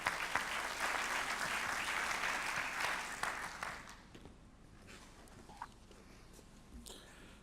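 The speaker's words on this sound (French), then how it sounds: "Merci de l'applaudir bien fort, Monsieur Viguier." A congress audience applauds a speaker at a Hyperion tower presentation at the Woodrise congress 2017, a dense burst of clapping that carries for about four seconds and then fades into quiet room noise.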